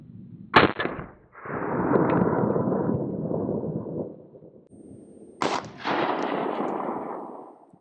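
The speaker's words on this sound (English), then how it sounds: "Up next, we have some 45 ACP through the HK45." Two sharp, loud reports from a .45 ACP HK45 pistol striking a foldable Level IIIA+ armor shield outdoors, each followed by a long decaying rumble, with steady wind noise between shots.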